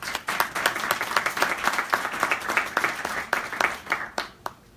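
Audience applause at a policy briefing on federal tax reform for Puerto Rico, honouring sponsors Amgen and Herbalife; a modest room of distinct, crisp claps in an uneven patter that thins out near the end.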